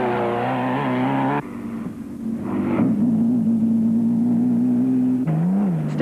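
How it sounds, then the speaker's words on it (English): Turbocharged Toyota Hilux race car roaring past at close range during the 1993 Caledon 400 off-road race, a loud sustained engine drone that drops briefly, then builds and holds steady before easing at the end. "With a definite handling advantage, the turbocharged Toyota rapidly pulled ahead, with Carolan chasing after the leading"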